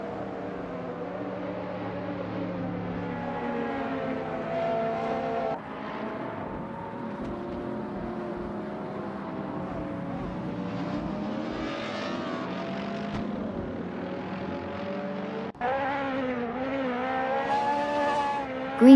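Race cars in an AI-driven racing video game, engines whining loudly and shifting pitch continuously as cars overtake one another, with gear changes and a sharp burst near the end.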